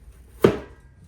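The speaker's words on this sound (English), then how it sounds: "The weight kind of leans itself to chopping a little bit." A single sharp chop from a thin-stock kukri knife cutting food, one loud close impact with a short ringing decay in a quiet setting.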